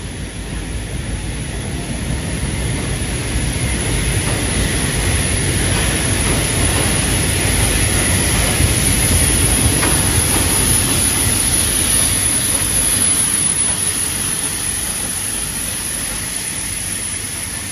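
A steam locomotive hauling a nine-car SRT special passenger train rolls past a station platform near Rangsit, a loud, steady roar of wheels and hissing steam sustained throughout with no voices.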